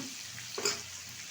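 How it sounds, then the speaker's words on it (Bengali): Hilsa fish fries lightly in oil in a pan, a faint steady sizzle with a brief stirring or scraping swell in the middle, no talk. "ইলিশ মাছ ভাজলে ভালো লাগে না, তবে হালকা করে একটু আমি ভেজে নিচ্ছি"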